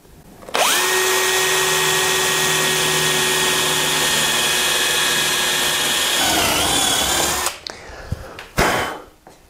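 A power drill fitted with a bit that pre-cuts the wood fibres bores a clean, tear-free hole through wood, a loud steady whine lasting several seconds before it winds down into a few brief knocks.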